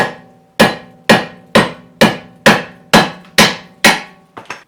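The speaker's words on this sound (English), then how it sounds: "get your handy dandy smack stick, beat away. Try and press that stud at the back." Hammer striking an old wheel nut threaded onto a wheel stud to drive it out of a Miata hub, nine sharp ringing metallic blows at a steady even pace, close and loud, the last two lighter.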